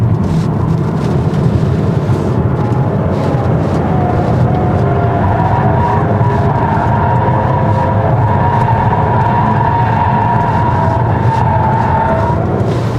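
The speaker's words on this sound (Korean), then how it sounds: "이렇게 가속을 하잖아요. 그러면 엔진 소리가 좀 되게 원초적으로 들립니다" A 2026 Volvo XC40 B4 AWD engine drones loudly and steadily, its pitch rising gradually as it accelerates, heard from inside the vehicle without any talking.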